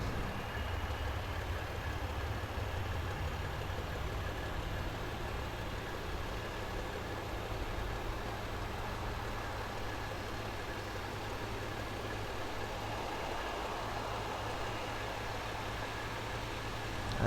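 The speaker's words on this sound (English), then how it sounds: "Okay, so as we push back, we can go for engine number 2. See the start valve open, N2 is increasing" Boeing 737-700 jet engine spooling up during start in the X-Plane 11 flight simulator: a steady, loud whining roar with a continuous broadband hiss, unbroken for the whole stretch, no talking.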